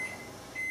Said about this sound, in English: Stop beeping.